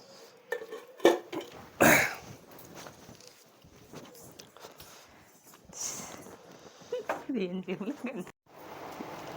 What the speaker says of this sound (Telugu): పెరుగు పచ్చడి కలుపుతున్నా.